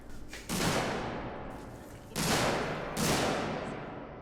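Three heavy gunshots from Alien: Isolation, spaced about a second apart, each a loud blast with a long, echoing decay, in an otherwise quiet space.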